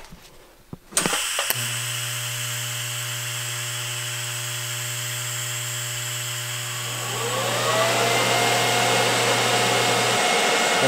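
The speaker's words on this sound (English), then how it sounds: "I'm just gonna heat the cast up first with the torch by itself" A gas torch roars steadily at close range while heating cast metal ahead of welding on a twin turbo LS Malibu project, a constant loud hiss with a low hum underneath that swells louder near the end.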